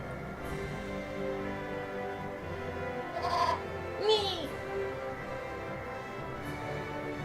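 A goat in Eternal Sonata bleats twice in quick succession, short wavering cries rising over a steady backdrop of game music.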